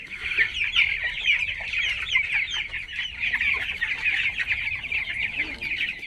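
Dense, continuous clucking from a flock of chickens, steady and fairly loud throughout, with a busy, overlapping chatter of many birds.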